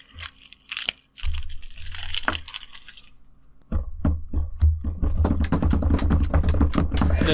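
A set of keys jangles loudly as it is tossed to someone, giving sharp metallic clinks and rattles in scattered bursts, followed by dense rustling jingle near the mic.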